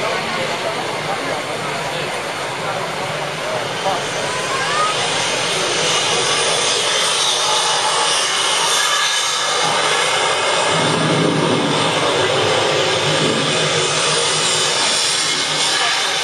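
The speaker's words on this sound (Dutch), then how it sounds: "Blijft dat er toch imposant om 9 vliegtuigen bij elkaar te zien opstijgen." A formation of nine Red Arrows jets takes off together, making a loud, sustained, broad engine roar that swells slightly midway and fills the whole stretch without pause.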